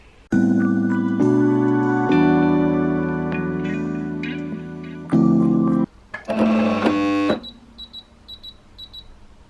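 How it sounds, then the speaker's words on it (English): A sewing machine motor whirs and strains close by in loud, buzzing runs that shift in pitch while sewing T-shirt fabric, then stops. "That is not the sound of a happy sewing machine."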